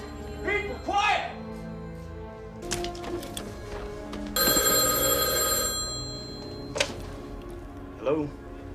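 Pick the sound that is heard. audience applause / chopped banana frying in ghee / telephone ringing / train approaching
telephone ringing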